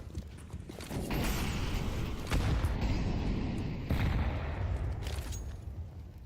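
Grenades exploding during an esports match, several heavy booms and bursts in quick succession over a dense, rumbling background of game noise.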